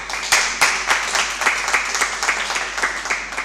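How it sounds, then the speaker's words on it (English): An audience at a neuroscience conference gives brisk applause for the session chair, a dense run of claps with distinct sharp hits, loud and close throughout. "A round of applause for Dr. Zafar Bashir."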